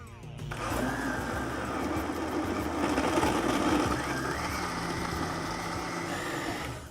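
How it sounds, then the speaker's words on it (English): A blender whirs steadily, close and loud, as it purees gazpacho with ice cubes, starting abruptly and running continuously throughout. "Let's blend it."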